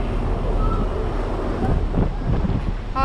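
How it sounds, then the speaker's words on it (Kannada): Strong wind buffets the microphone on the deck of a boat with a restaurant area, making a loud, continuous low rumble with faint voices underneath. "ಇಲ್ಲಿ ಕ್ಯಾಮ್ರಾ ಇಟ್ಕೊಳ್ಳೋದಕ್ಕೂ ಭಯ ಆಗುತ್ತೆ, ಎಷ್ಟು ಗಾಳಿ ಇದೆ ಅಂತೀರಾ"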